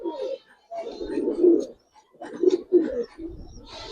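Giribaz and coloured pigeons cooing in low, throaty bursts close by, several overlapping coos with short pauses between them, with no talking.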